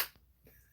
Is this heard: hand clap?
yes